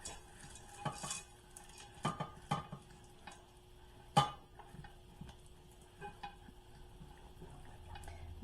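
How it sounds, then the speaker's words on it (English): A spoon scrapes and knocks around a pot while melted milk chocolate is stirred, giving quiet, irregular clinks with one sharper tap, heard close and faint against a soft background hum. "and then we'll stir all this up"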